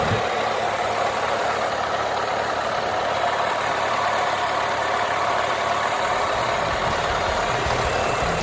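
A Suzuki Samurai engine idling after spark plug work, a steady low mechanical hum and vibration that stays even and fairly quiet for several seconds with no talking.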